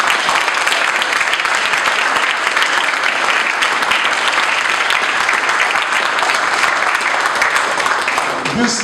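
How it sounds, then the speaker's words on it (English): Audience giving a round of applause at an end-of-year celebration, continuous loud dense clapping from many hands lasting throughout, with a faint voice near the end. "So I would like to give all of these folks a round of applause."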